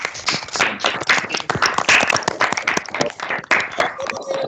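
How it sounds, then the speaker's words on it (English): Applause and clapping from participants in an online class, honoring a teacher for an achievement; dense, irregular claps run continuously throughout, with a voice or two mixed in underneath. "Give a round of applause."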